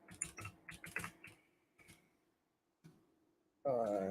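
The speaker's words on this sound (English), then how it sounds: "I'm terrible at typing." Keys clatter on a computer keyboard in a few quick bursts of soft clicking, close and quiet, with pauses between and a louder tonal sound cutting in at the end.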